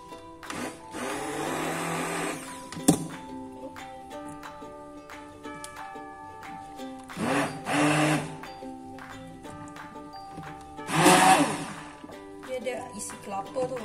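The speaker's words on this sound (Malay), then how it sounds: "Saya pakai hand blender je." A hand blender whirs in loud bursts blending coconut flesh for a coconut shake, starting and stopping several times, with a quieter hum and a voice in between.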